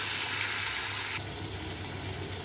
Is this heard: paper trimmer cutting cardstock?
no